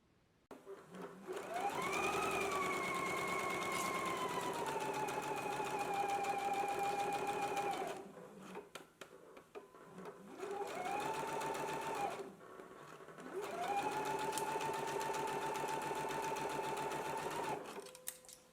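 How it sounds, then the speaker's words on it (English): A sewing machine stitches a 5/8 inch seam allowance on a garment sleeve, running in three steady whirring bursts separated by short pauses, close and loud with no talking. "we can go ahead and stitch this at a 5/8 of an inch seam allowance"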